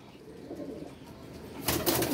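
A pigeon gives a soft, low cooing close by in a quiet space, followed near the end by a short burst of rustling noise.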